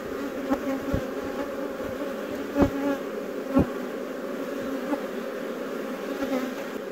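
Honeybees and drones swarm around an open beehive, making a steady, dense buzz close by with faint occasional taps and knocks under it, with no talking.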